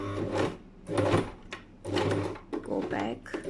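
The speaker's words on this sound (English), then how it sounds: "now I want to do my reverse stitch." A sewing machine runs a reverse stitch 0.1 cm from the edge on a thick patch pocket flap, in several short bursts of rapid needle clatter with brief pauses, close and steady.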